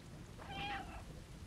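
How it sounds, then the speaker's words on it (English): A cat meows once in the video game Stray, a soft, rising and falling cry over a low bed of rain and distant rumble in the game's ambience. "So we can meow."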